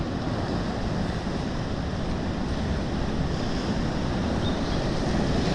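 Sea waves surge at high tide along a rocky coastal fishing spot, a loud continuous roar of surf with wind buffeting the microphone and no speech.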